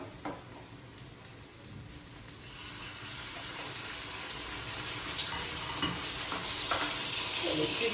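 Tomatoes go into a frying pan where they sizzle, a continuous hiss with stirring scrapes that gradually grows louder over the stretch, with no one speaking.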